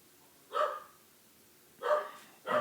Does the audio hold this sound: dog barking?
yes